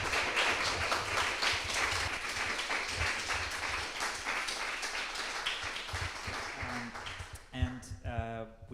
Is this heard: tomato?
no